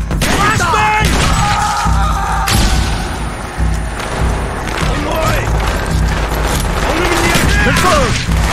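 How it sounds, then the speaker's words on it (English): Flashbang grenade blast and gunfire in the Call of Duty Black Ops video game, loud booms, crashes and thuds in rapid succession with ringing tones, shouted voices and dialogue heard throughout. "Flashbang!"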